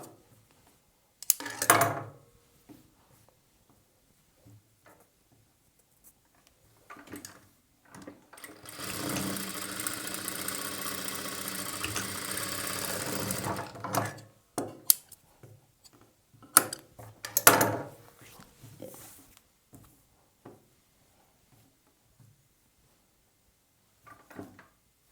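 A sewing machine stitches a plain blouse in one steady burst of about five seconds, with short handling clicks and fabric rustles before and after the run.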